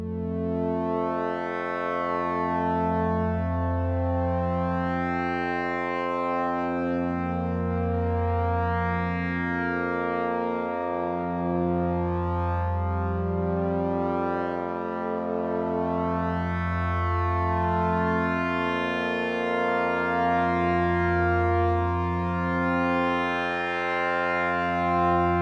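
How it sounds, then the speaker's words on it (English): A warm, sustained bass drone from the KLEVGR Syndt synthesizer app on iPad, with slowly shifting harmonics and filter sweeps, playing continuously and fairly loud with no voices. "the warmth of the synthesizer itself makes it very interesting for bass sounds"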